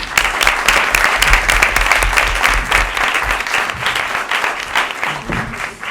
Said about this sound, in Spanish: pido también un aplauso, muy merecido, para nuestros integrantes de la mesa y nuestros invitados